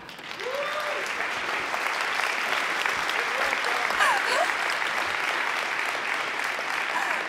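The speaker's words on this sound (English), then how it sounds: "I need a huge round of applause for the sponsors." A large conference audience at PyCon 2015 applauds the sponsors, producing a sustained, even wall of dense clapping throughout, with scattered cheers and voices audible within the crowd noise.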